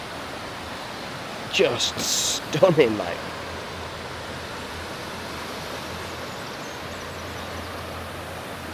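A river flows near a hydroelectric structure as a steady broadband rush that runs the whole time, with a person speaking briefly early on.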